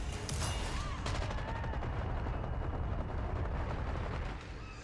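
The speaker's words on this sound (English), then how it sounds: "Flashbang." A flashbang grenade goes off in a video game: sharp bursts early on give way to a continuous, fairly quiet crackle of game combat and gunfire-like noise.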